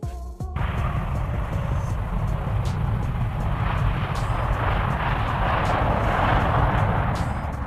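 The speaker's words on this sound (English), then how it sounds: "This is the Airbus A330-900neo, introduced in 2017 in Europe" An Airbus A330-900neo airliner roars past in a loud, sustained broadband rush of jet engine noise that swells slightly and holds steady, preceded by a brief sharp onset.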